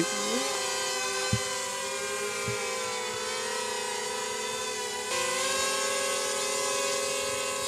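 A small camera drone hovers and flies outdoors under a hot sun, its propellers giving a steady high-pitched whine that holds level throughout, shifting pitch slightly about two-thirds through.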